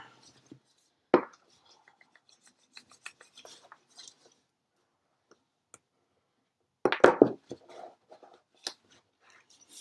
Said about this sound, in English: Okay, turn that over, burnish that down.